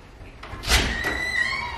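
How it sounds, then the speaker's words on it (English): A door swings shut on a film set behind the scenes, a single solid thud with a brief creak and a lingering ring afterward, close by with no talking. "let Peterson close the door first"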